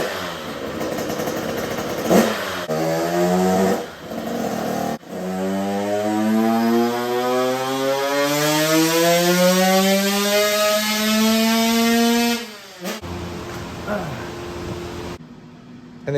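A Husqvarna supermini motorcycle with stock CDI and stock cylinder runs on a dyno, its loud two-stroke engine note rising steadily through the revs in one long pull, with brief lower-pitched blips before it and a short idle after.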